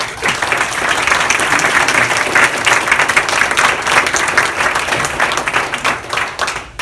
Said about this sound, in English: I want to give this leadership team another round of applause